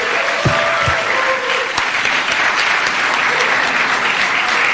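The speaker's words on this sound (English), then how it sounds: "A really warm round of applause" Audience applause at a ceremony, a steady burst of many hands clapping close by, with a couple of low thumps near the start.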